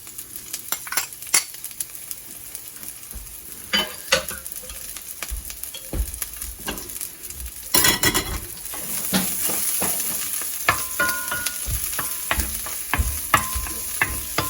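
Garlic frying in oil for fish ball fried rice, a steady close sizzle that swells louder midway, with frequent clicks and scrapes of a utensil stirring against the pan.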